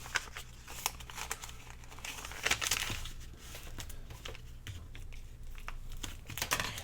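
Paper is folded over and creased by hand for a notebook tag, giving close, quiet crinkling and rustling with scattered sharp crackles and taps, no voices.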